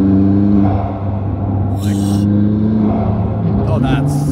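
A supercharged Lamborghini accelerating hard, its engine roaring loud and close with rising, shifting pitch and a brief whine, while a voice speaks briefly over it.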